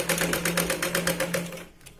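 A sewing machine runs a stitch along a blouse shoulder seam, a loud close rapid chatter of needle strokes that slows and stops near the end.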